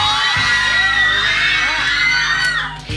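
A lively crowd cheers and shouts encouragement at a competition, with a dense wall of excited, high-pitched voices and whoops that stays loud and sustained before easing slightly at the end.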